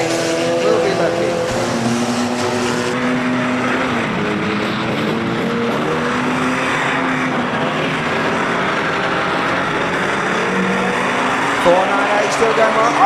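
Demolition derby cars at Arena Essex roaring around the track at the start of a ten-lap race, a steady dense engine drone from several vehicles, with a commentator talking over it.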